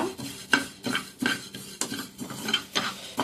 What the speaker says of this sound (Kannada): ಕೊತ್ತಂಬರಿ ಡ್ರೈಯನ್ನೇ ಹುರಿಯುವ.